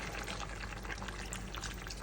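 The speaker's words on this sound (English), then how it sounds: "I'm gonna add in my water now" Water poured into a cooking pot of green bean and potato bredie, a steady close splashing pour running unbroken for about two seconds.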